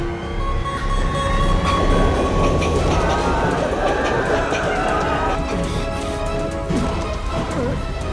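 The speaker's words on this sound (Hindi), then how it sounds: "ट्रेन आ रही है" Train approaching a station, a loud continuous rumble with rattling wheels and metallic clatter, close and steady throughout, with faint voices mixed in.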